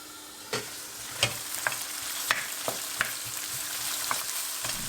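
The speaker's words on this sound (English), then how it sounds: "Heat about 4-5 tablespoons olive oil and begin to saute the onions with" Onions sautéing with salt in olive oil in a wide pan, a steady soft sizzle broken by sporadic scraping stirs and light clicks of a utensil against the pan.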